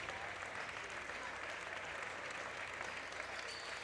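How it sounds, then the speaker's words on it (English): Warriors fans in a gym at a boys 4A substate basketball final applaud a player leaving the game. The clapping is a faint, steady wash of crowd noise heard from a distance. "Halavik gets subbed out with a round of applause from the Warriors fans"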